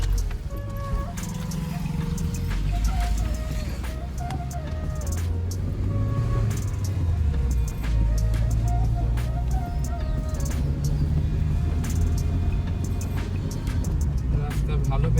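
Hyundai Santro car driving on winding hill roads between Murti and Jaldhaka in the Dooars, with a steady engine hum and road rumble that carry through the whole stretch, occasionally shifting pitch.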